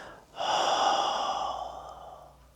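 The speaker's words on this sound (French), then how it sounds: "L'idée, c'est de souffler plus longtemps qu'on inspire." A single long, slow exhale in a breathing exercise, breathy and close, rising quickly after a brief catch and then fading gradually over about two seconds.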